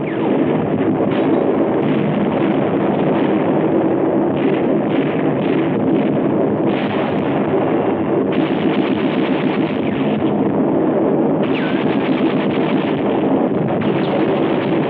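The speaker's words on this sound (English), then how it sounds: "the forward elements are pinned down by mortar and machine gun fire" Dense, constant roar of battle in a 1944 Pacific beach assault, with mortar and machine gun fire blurring into a loud, wind-buffeted wash of noise and no clearly separated shots.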